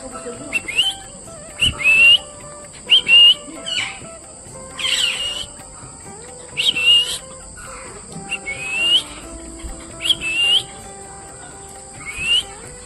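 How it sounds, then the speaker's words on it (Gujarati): Large mountain parrots at Sakkarbaug Zoo in Junagadh give repeated sharp, whistled calls in short bursts about a second apart, fairly close, over a steady background hum of insects. "જો મિત્રો, કેટલા મોટા મોટા પહાડી પોપટ છે."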